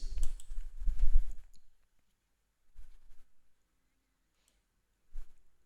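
A computer mouse clicks a few times while setting up a website, with a quick burst of clicks at the start and two more isolated, faint clicks spaced apart in quiet.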